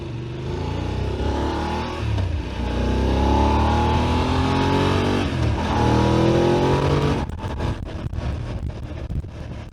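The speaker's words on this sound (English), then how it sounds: "That last gear change was the quick shifter. Cheeky little quick shift." A motorcycle accelerates hard on the road, its engine note climbing in rising sweeps through quick-shifter gear changes under buffeting wind noise, then easing off near the end.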